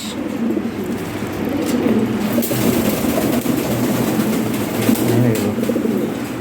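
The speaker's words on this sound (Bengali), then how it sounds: "টপ কোয়ালিটি রেড লাহরি আছে পেয়ার ব্লু বালেস আছে আর অনেক কবুতর আছে" Red Lahori pigeons, along with many other pigeons, coo in a low, continuous warbling chorus close by, with a faint murmur of voices in the background.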